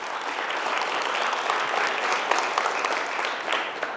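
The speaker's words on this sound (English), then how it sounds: "Let's give Mr. Vines another round of applause" Sustained applause rings out in a high school auditorium for an inductee at a Hall of Fame induction ceremony, dense and even with a few sharper claps standing out near the end.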